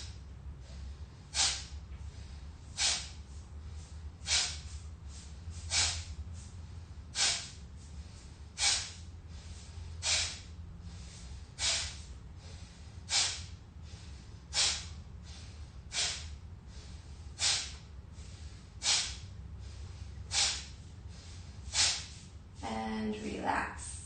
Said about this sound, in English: Hands next to your rib cage and inhale.